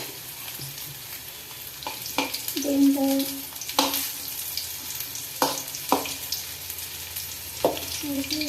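Bitter gourd fries in oil for a tempering with a steady sizzle. Sharp, scattered clicks and knocks of a spoon on the pan punctuate it, and a brief spoken word comes near the start.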